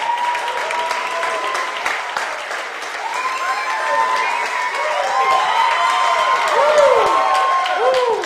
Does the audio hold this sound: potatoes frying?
no